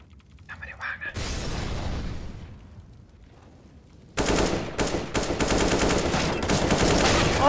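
Automatic rifle fire in the online shooter Counter-Strike: Global Offensive: a loud burst, a lull, then sustained rapid gunfire filling the last few seconds, with faint talk behind it.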